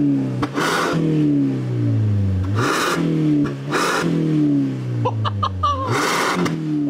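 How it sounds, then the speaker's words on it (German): Mazda CX-60 plug-in hybrid fitted with an ATH Hinsberger sport exhaust, revved repeatedly: engine pitch climbs and drops in several loud, close blips with a hissing rasp on each rise, idling between. "Jetzt hören wir uns das Ganze mal hier mit der neuen Abgasanlage an."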